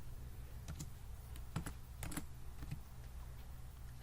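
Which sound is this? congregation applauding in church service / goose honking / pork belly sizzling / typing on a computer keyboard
typing on a computer keyboard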